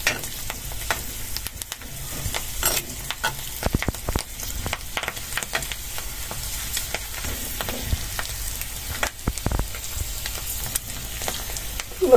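Homemade chips frying in a karahi of hot oil, a dense continuous crackle and bubbling with frequent sharp pops throughout, steady and close, no one speaking.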